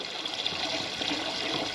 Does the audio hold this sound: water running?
yes